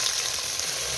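Garlic dropped into hot oil, a loud, dense frying hiss filling the short moment close up, no talk.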